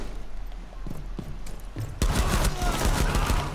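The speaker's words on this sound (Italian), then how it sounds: "Uno ha sparato attraverso il muro." Video game gunfire shot through a wall: a few muffled distant shots at first, then a sudden loud, close burst of rapid fire with heavy thuds.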